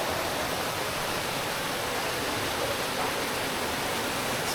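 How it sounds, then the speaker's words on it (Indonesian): Steady broadband rush of a shallow, clear river flowing strongly just behind a glamping tent at Gunung Puntang, Bandung, a continuous close water roar with no pauses or voices. "Meskipun sungai ini dangkal, tapi aliran airnya cukup deras"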